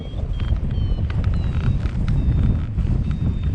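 Steady wind rushing over the microphone while paragliding in about 8 mph wind, a continuous low broadband roar throughout with faint tonal whistles above it.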